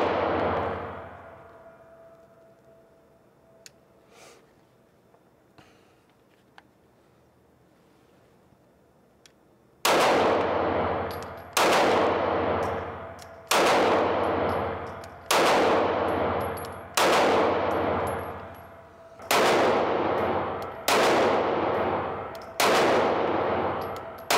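Shots from an inexpensive carry handgun, after a quiet stretch a run of nine loud, evenly spaced reports, each with a short ringing decay.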